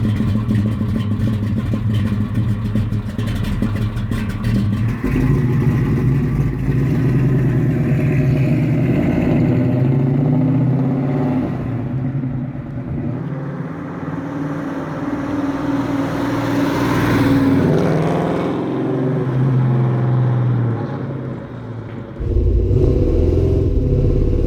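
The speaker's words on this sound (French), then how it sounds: "du bon gros V8 comme on aime." A big American V8 muscle car engine, Mustang, Firebird, Camaro or GT500 type, rumbles and revs loud and close throughout, with swelling throttle surges and a heavy low burble, and one sharp rise near the end.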